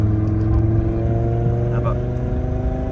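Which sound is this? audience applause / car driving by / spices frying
car driving by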